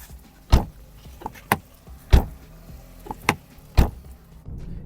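A series of Volkswagen Passat NMS car door slams and latch clunks, the door lacking an extra seal, three strong thumps with lighter clicks between, fairly close in a quiet setting.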